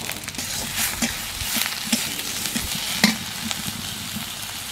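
Grated garlic and ginger sizzling in a pan with browned onions while a spoon stirs, giving steady frying hiss with repeated scraping strokes, close and fairly loud, without voices.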